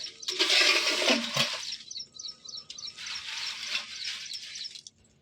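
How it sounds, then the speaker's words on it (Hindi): Jaggery water is poured over a layer of dry leaves for compost in two splashing bursts, a loud gush followed by a softer, steadier pour. "और इसके बाद में फिर हल्के से इस तरह से पानी डाल दीजिए।"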